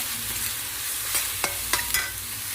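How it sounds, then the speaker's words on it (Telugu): Chicken curry masala being stirred and fried in a pan, with a steady low sizzle and a few sharp scraping strokes of the spoon near the end, close and fairly quiet, no talking. "ఇలా కలుపుకుంటా ఫ్రై చేసుకోవాలి, అడుగట్టకుండా."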